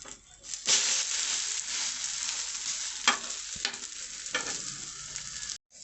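A bread omelette fries in a pan with a steady close sizzle, broken by a few sharp scrapes and pats as it is turned, ending abruptly; no talk.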